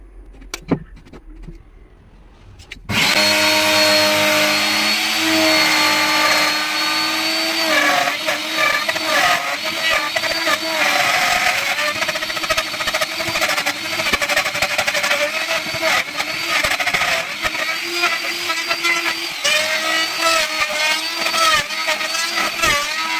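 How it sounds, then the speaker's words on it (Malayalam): A router cuts the lock recess in a door. After a quiet opening it starts abruptly with a loud, continuous high-pitched whine, the pitch wavering slightly as it bites into the wood for about twenty seconds. "നമ്മളിതിൻ്റെ ലോക്കും റൂട്ടറോണ്ടാണ് വെട്ടുന്നത്"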